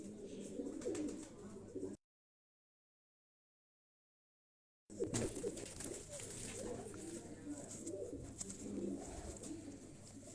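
A five-year-old flying hen pigeon and other pigeons in a Quetta loft coo in low, repeated murmurs close by, with a few seconds of dead silence cutting the sound partway through.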